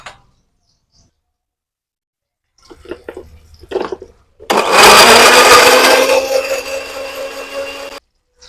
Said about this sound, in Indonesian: Seperti biasa kita blender aja biar cepet.